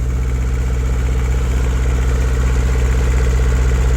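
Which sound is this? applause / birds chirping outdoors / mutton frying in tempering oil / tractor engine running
tractor engine running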